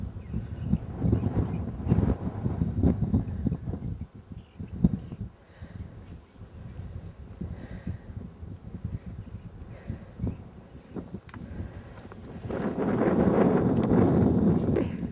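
Wind buffets the microphone on an open hilltop, gusting unevenly with rumbling surges and a strong final rush.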